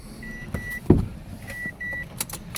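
Power window motor of a 2008 Ford Ranger 4WD running in short whirring bursts, close and moderately loud, with a brief thump and a few faint beeps in between.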